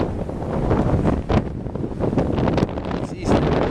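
A strong blizzard wind, about 50 miles per hour, buffets the microphone over deep snow in open country, roaring and gusting unevenly, with a voice faintly mixed in.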